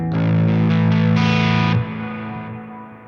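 Electric guitar played through an amplifier with boosted treble and gain: a crunchy, distorted chord struck with a few repeated strums, ringing loudly before cutting off and decaying into a fading sustain.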